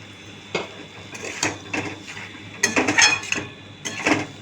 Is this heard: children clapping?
no